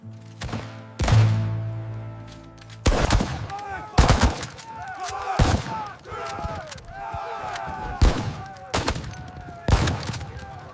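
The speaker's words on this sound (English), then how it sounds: "Their new guns fire too fast." Rifle volleys in a Bozeman Trail battle reenactment, sharp loud cracks in bursts about every second or two, some overlapping like scattered fire.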